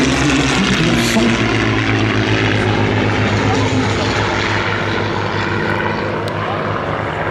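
A Curtiss P-40 Warhawk fighter at an air show, its piston engine and propeller giving a loud, steady roaring drone that holds without a break, close and powerful.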